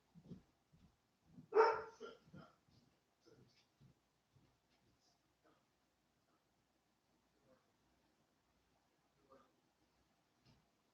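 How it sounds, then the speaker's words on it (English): Dog barking in a home, a cluster of loud barks near the start, then only sparse faint sounds for the rest. "He can't be barking like this."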